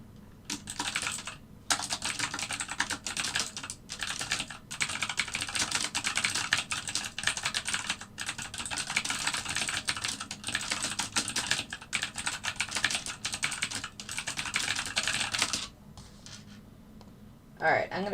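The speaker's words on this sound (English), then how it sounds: "And I'm still typing." Rapid, continuous typing on a computer keyboard at a home trading desk, dense clicking that runs almost without pause for many seconds before stopping near the end.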